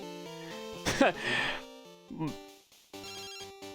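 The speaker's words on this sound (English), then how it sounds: "Oh, phone call." The phone rings in Pokémon Crystal as chiptune ringing bursts start and stop, with a voice talking over part of it.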